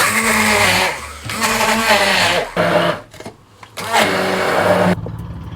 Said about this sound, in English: we're gonna blend these in here using a hand blender